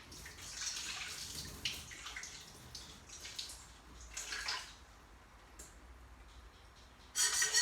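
Soaking water is drained from dates, pouring and splashing out of a container in uneven bursts, with a soft running trickle throughout and a final louder gush.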